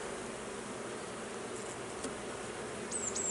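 Honeybees hum softly during a beehive inspection, a faint, steady drone with a few insects buzzing nearer for a moment, no speech.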